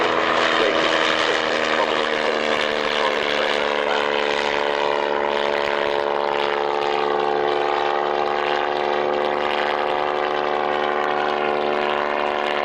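A classic workhorse helicopter flies at the North Weald Airshow in 1999, producing a loud, steady droning hum of layered engine and rotor tones that holds without a break, with no talk over it.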